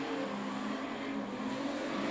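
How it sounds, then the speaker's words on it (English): Several street stock race cars circle the track during a time trial, their engines a steady, continuous roar from mid-distance with no pauses and no voices. "So 5 cars out on track, the 2 Ivenair brothers,"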